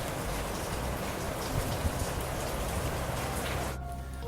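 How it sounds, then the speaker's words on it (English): Steady rain falls in Northern California, a dense continuous hiss of drops on surfaces, loud and close throughout, easing suddenly just before the end. "So here in Northern California, it's a little rainy today."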